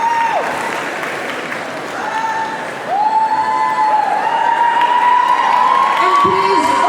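Audience clapping and cheering for the top three contest winners and contestants at an art event before Christmas, a steady wash of applause with whoops and a few voices rising above it throughout.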